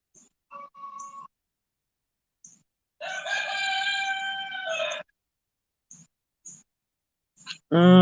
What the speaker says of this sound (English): I'm listening to the rooster talk